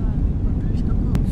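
A passenger airplane takes off on a return flight to Germany, heard from inside the cabin as a loud, steady low roar of engines and rushing air that fills the whole moment.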